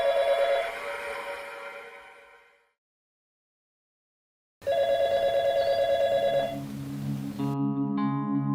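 A telephone rings in a burst that fades away, then after a few seconds of silence it rings again, followed by a lower electronic tone.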